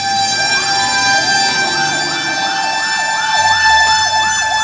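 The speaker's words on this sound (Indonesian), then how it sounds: "Wow, ada mobil pemadam kebakaran, teman-teman. Ada mobil fire truck," A toy fire truck sounds its siren, a wailing electronic tone that sweeps up and down in quick repeated cycles against a steady high whine. It plays continuously and close for the whole stretch, and no voices are heard.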